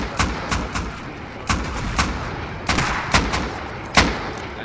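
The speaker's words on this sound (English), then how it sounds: "They don't have rockets, they got rocket launchers. That was so close." Rocket launcher fire and explosions in the survival game Rust, heard as a string of about eight sharp booming blasts at irregular intervals over a rumbling, noisy battle background, with no talking.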